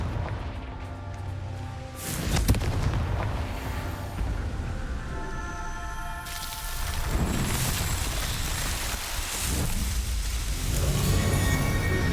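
Explosive blasts from the Confringo fire spell in the video game Hogwarts Legacy, several booming bursts and crackling debris over a constant rumbling game soundscape.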